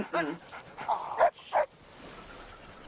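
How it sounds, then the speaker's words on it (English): A dog gives a few sharp barks and yips in a wooded outdoor area with wild boars nearby, short bursts close to the listener while voices talk around them. "You gotta keep that dog quiet."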